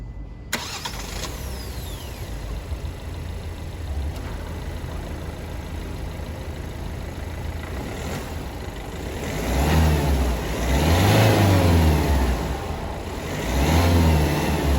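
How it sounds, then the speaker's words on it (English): A 2020 Hyundai Verna engine cranks and starts, settles into a steady idle, then swells through two rising revs, close and loud with no one talking. "now let's start up the engine and see how the car sounds"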